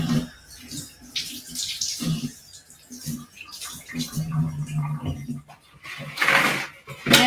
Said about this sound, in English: I'm gonna rinse off the knife